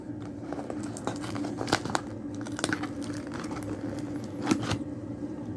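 Packaging on an eBay parcel holding vintage TMNT figures is peeled open slowly by hand, giving close, quiet crinkling and soft tearing with scattered sharper crackles over about six seconds.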